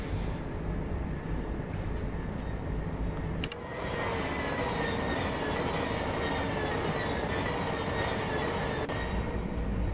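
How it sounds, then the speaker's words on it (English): Electric multiple unit train, a Class 700 on the Brighton Main Line in the train simulator Train Sim World 3, runs with a steady rolling rumble, wheel squeal and a choppy rhythm between carriages, continuous throughout with a brief dip near the middle. "Still got that choppy sound between the carriages on AC."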